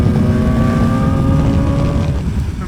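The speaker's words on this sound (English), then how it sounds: "A 4-cylinder engine needs some revs to live out" A 2025 BMW S1000R four-cylinder motorcycle engine revving loudly at high rpm, a sustained throaty drone heard from close by that eases off near the end.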